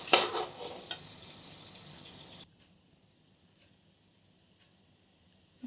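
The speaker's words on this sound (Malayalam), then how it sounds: "നമുക്ക് പപ്പടം ചെറുതായിട്ട് നുറുക്കിയെടുത്ത് ഇങ്ങനെ വറുത്തെടുക്കണം" Broken pappadam pieces fry in hot oil with a loud, crackling sizzle and a few pops for about two seconds, then it cuts to near silence with faint ticks.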